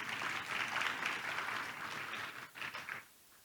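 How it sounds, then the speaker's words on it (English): Audience applause for Paul Polman at a business conference, many hands clapping in a full, fairly distant wash that thins out and stops near the end. "give him a big applause"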